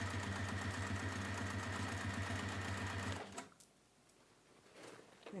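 A sewing machine stitches a see-through bag with a loud, close, even whir for about three seconds, then stops abruptly, leaving faint handling noise.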